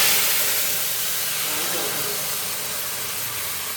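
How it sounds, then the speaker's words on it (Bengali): Spices for tempering dal crackle in hot oil as a loud, steady, hissing sizzle that fills the whole stretch and fades slightly toward the end. "ফোড়নটা একটু চড়বড় করে আসলে এই যে ডালটা সম্বার দিয়ে দেবো"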